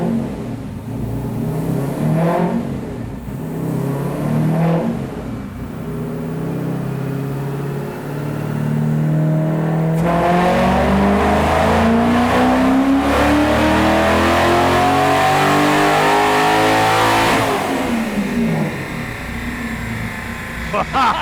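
A $375 industrial LS 6.0 V8 revs hard on a chassis dyno, loud and sustained with rising and falling engine pitch through repeated pulls, while people talk over it.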